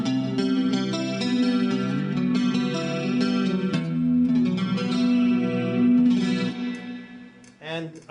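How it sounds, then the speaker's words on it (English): Electric guitar through a Roland Cube amp with chorus, chords shimmering and slightly doubled with reverb tail, ending in a brief wobbling flourish. "Here it is with a little bit more chorus."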